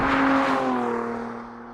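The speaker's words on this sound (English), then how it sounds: "Are you having trouble hearing this exhaust? It sounds phenomenal in sport mode." A Lotus sports car engine with stock exhaust in sport mode drones steadily with a deep exhaust note, loud and close, its pitch slowly easing down.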